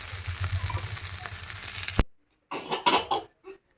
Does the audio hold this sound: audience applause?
no